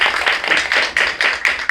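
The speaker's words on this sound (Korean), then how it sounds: "우리 박수 부탁드리겠습니다" Close, loud rhythmic clapping from a seminar audience at a Korean church forum, with about seven sharp bursts in quick, even succession.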